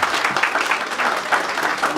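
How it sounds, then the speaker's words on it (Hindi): Brief burst of audience clapping at a film trailer and music launch event, dense and steady for two seconds with no voices over it. "एक बार जोरदार तालियां बजाएं"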